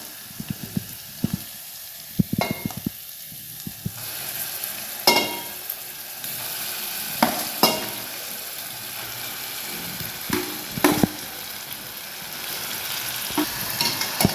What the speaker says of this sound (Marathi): आता आपण ह्याच्यामध्ये आपण हटलेली भाजी टाकूया।